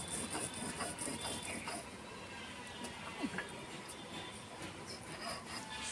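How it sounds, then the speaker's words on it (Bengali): A grinder or stone works cumin and soaked dried red chilli into a paste, making a faint, continuous rattling, whirring mechanical texture with small irregular clicks, heard without speech. "আমি বেটে দিচ্ছি, এক্ষুনি হয়ে যাবে"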